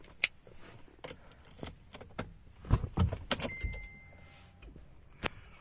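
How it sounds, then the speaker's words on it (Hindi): Several sharp metallic clicks and rattles of a key sliding into the ignition of a Skoda Rapid, close by, with faint electronic chimes in the background. "तो अभी मैं की को इंसर्ट करता हूँ"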